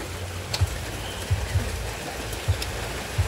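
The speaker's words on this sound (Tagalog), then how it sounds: "umulan na. Nabot kami ng ulan" Rain falls outdoors in a steady, moderately loud hiss, with a few soft low thumps now and then.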